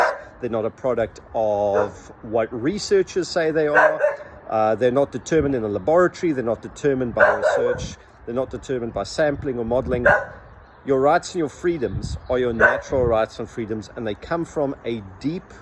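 Indoors, a dog barks and yips now and then while someone talks steadily over it. The barks stay partly buried under his voice.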